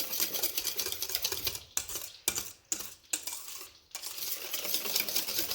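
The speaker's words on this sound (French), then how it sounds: "Je remue bien le contenu." Contents of a bowl being stirred briskly with a utensil, a steady run of scraping and clinking strokes broken by a few short pauses, close and moderately loud, with no talking.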